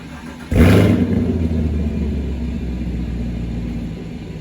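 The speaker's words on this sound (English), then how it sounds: "Exhaust never gets old." A 2016 Camaro 2SS engine revs sharply, then settles into a deep, steady exhaust rumble that stays loud and close.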